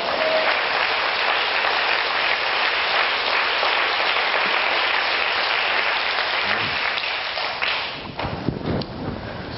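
Congregation applause in a church fills the space with steady, dense clapping from many hands, loud and continuous, thinning and turning more scattered near the end.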